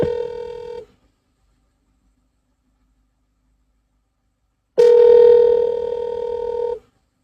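A telephone dial tone from a call-back attempt: a steady tone for about a second, a few seconds of silence, then the tone returns loudly for two more seconds, heard alone without speech.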